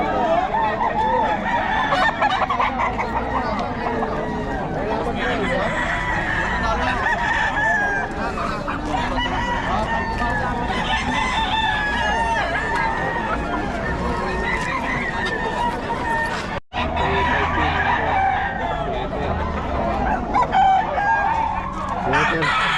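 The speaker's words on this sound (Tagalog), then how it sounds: "Boston Sweater daw to kay Boss Rod." Sweater gamecock roosters crowing repeatedly amid clucking and other fowl noise, a busy continuous chorus with people talking in the background.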